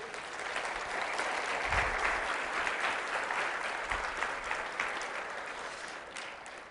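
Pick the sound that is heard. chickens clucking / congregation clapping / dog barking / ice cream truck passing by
congregation clapping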